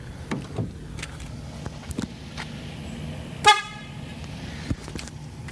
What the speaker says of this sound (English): Let's do a small test.